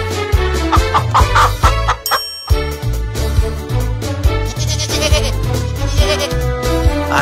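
Goats bleat and native chickens cluck over a busy, rhythmic background at the Bac-Bacarra Festival in Bacarra, Ilocos Norte, Philippines, with overlapping animal calls throughout.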